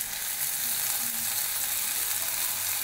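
Spices sizzle and fry in hot oil for a chhole curry tempering, a steady, close hiss that runs without a break under near silence.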